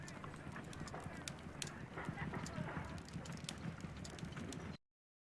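Horse-drawn cab in the Sherlock Holmes video game on a gloomy night, its hooves clip-clopping in a steady rhythm, moderately close, with faint background ambience and voices under it.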